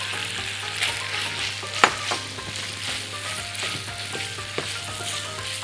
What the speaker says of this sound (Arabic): هنشوحه شويه وبعدين نحط الفلفل